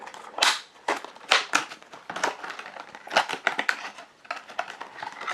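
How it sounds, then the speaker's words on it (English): Cardboard flap of a Tangle Teezer Easy Dry & Go hairbrush box being pried open, a close run of crisp scraping crackles and snaps in several short bursts, with no talking. "let's go ahead and open up the box by opening the box flap"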